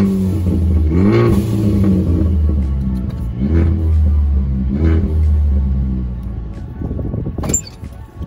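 A Ford Focus ST engine revs up with a deep, loud rumble, rising and falling in several pulses, fitted with a blow off valve and new coilovers; a sharp hiss near the end may be the valve venting.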